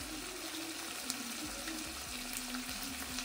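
Cashew nuts sautéing in a pan for restaurant-style shahi paneer, a steady soft sizzle with faint stirring scrapes and light clinks throughout, no voices.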